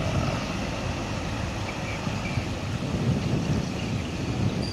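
Steady wind rushes across a busy bus terminal, a constant broadband roar with microphone buffeting and no voices.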